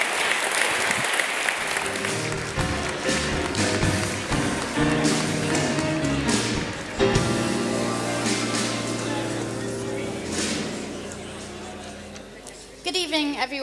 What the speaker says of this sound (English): perhaps we can close there with one more round of applause for our panel this evening.